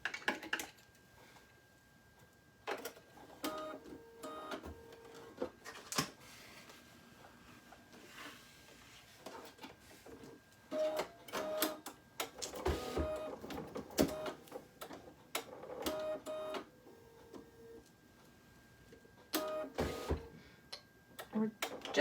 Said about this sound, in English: We're just gonna stitch out that little beak.